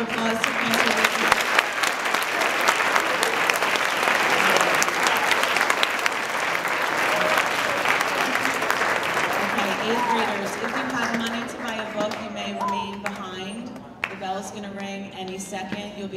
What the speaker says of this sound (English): Boys and girls, please give another round of applause to CANTOR